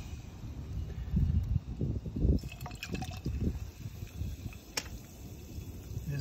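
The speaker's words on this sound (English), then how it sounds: "You can see that that's fizzing." Mortar samples fizzing in muriatic acid, a faint bubbling crackle with soft liquid trickles close by and a few sharper pops.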